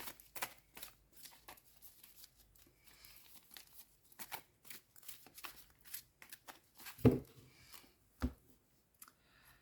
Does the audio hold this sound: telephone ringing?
no